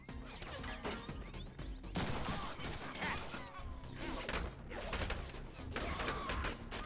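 Dense, close gunfire from the Deadpool video game, a rapid run of sharp cracks and crashing impacts that keeps up for several seconds among other combat clatter.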